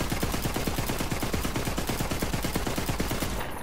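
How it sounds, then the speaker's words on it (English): Rapid, relentless gunfire from an overpowered gun in a video game, with shots cracking out in a fast, steady stream for the whole stretch and no pause to reload. "Pretty sure I just found the most overpowered gun in the game"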